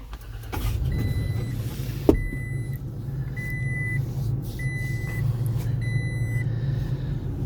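A 2023 Toyota Tacoma TRD Off Road Premium with a TRD lift kit starts by push button and settles into a steady, low idle while a cabin chime repeats at regular intervals.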